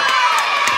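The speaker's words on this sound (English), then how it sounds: "round of applause" A live commedia dell'arte audience cheers and shouts in a brief, loud, close burst of crowd noise.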